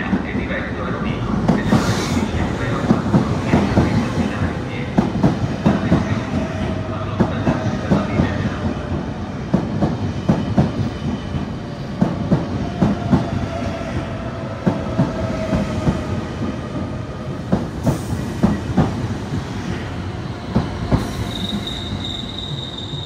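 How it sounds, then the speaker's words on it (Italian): A regional train at Venezia Mestre station, arriving from Venezia Santa Lucia and bound for Rovigo, rumbles and clatters steadily over the rails with sharp wheel squeals and metallic screeches, loud and close throughout. "Il treno regionale proveniente da Venezia Santa Lucia è diretto a Rovigo."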